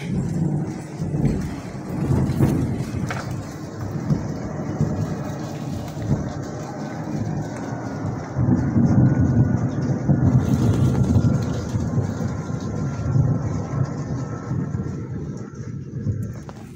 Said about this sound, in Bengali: বাইরে কিন্তু প্রচণ্ড বেশি পরিমাণে বৃষ্টি পড়ছে